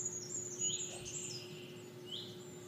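Small birds chirp and tweet on Mount Makiling at a quiet mountain campsite, brief high calls coming in short bursts over a steady low hum in the background.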